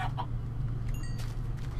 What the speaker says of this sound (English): Hey, chicken!